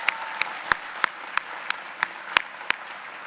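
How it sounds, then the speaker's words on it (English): Applause at a senior career education awards ceremony for a student entering the Marines: a steady wash of clapping from the audience, punctuated by sharp, louder individual claps at roughly regular intervals, no talking. "let's give him a round of applause"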